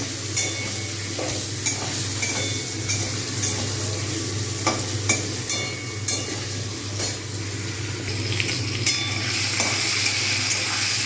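New potatoes stir-fried in a pan for a dish with spring onion greens: a steady close sizzle runs throughout, broken by repeated scraping and clinking strokes of a spatula turning the pieces, with no talking.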